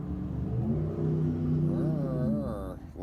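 Cars passing on a road outside, a steady close rumble of engines with one vehicle revving and accelerating past, loud and continuous.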